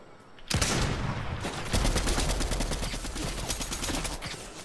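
Rapid, loud gunfire in the Fortnite video game erupts after a brief quiet moment and continues as a dense burst of repeated shots for several seconds, then tapers off.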